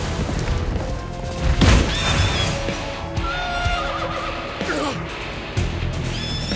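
A horse neighs loudly in an animated battle scene, a shrill whinny with clattering impacts and crashes around it, no talk over it.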